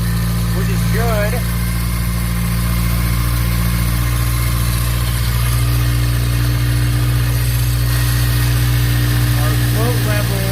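A 1988 Toyota Corolla FX with a newly installed carburetor idles loudly and steadily up close, its engine a constant droning hum, while brief voices and small squeaks cut in here and there.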